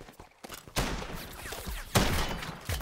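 Sustained gunfire in the blocky team shooter Block N Load, dense rapid shots with sharp louder bursts recurring over a few seconds, fairly close and loud.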